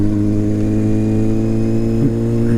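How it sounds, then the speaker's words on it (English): A motorcycle engine idling loudly nearby with a brief rev, steady throaty drone throughout, heard while riding the bike. "cute little revs"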